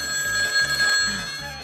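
A telephone rings during a Spanish-language comedy sketch, a bright steady electronic bell pulsing in regular bursts, moderately loud and alone without voices.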